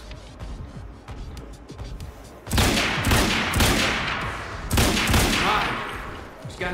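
Rapid bursts of gunfire from the Quantum Break video game, loud and dense, starting after a quieter opening and continuing in heavy volleys with a second surge near the end.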